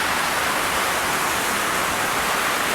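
Heavy storm rain pours down in a dense, loud, unbroken hiss, steady from start to finish, blowing into a house.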